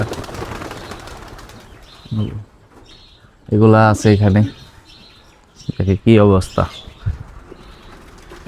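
Pigeons in a home loft with chicks and eggs give several close, resonant cooing bursts in short clusters, while a person talks nearby between the calls.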